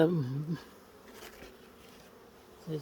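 Bees buzz around an open hive during an inspection, a soft continuous hum under a brief nearby voice at the start and end.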